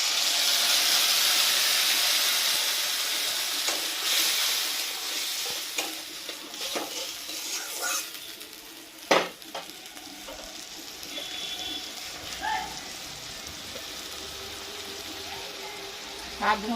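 Ginger and cumin paste drops onto fried potatoes in hot oil. A loud hissing sizzle opens the sound and then eases into a softer steady fry, broken by occasional stirring scrapes and a sharp knock midway.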